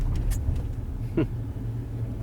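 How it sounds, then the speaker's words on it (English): A modern fire department truck's engine warms up at a historic state park site, a steady low rumble throughout with a brief clatter partway through. "Modern Fire Department warming up their truck"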